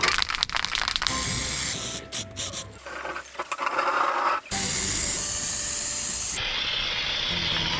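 A spray gun lays epoxy primer onto the panels of a rusty project car, giving close, loud bursts of steady hissing spray with brief pauses between passes.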